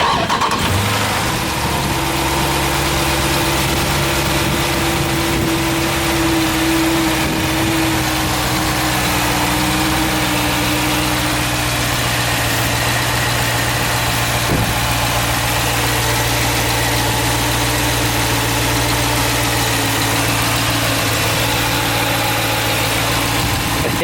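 A Jeep SRT fitted with a K&N cold-air intake fires up, then settles into a loud, close, steady idle with a deep, even drone that holds for over twenty seconds.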